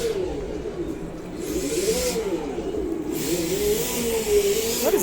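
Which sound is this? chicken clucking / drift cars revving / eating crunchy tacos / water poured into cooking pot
drift cars revving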